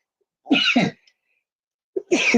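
A man sneezes: two quick, sharp bursts close to the microphone, a pause of silence, then another forceful burst.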